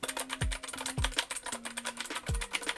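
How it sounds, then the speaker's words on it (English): A Keychron K12 clicky mechanical keyboard clatters under fast, loud keystrokes, with sharp clicks running steadily throughout and heavier thuds roughly every half second. "Nice and loud, keys are nice and clicky"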